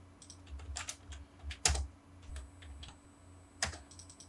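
Keys tapped on a computer keyboard while entering a command in AutoCAD, a handful of light clicks followed by two sharper keystrokes, close and fairly quiet against a faint steady hum.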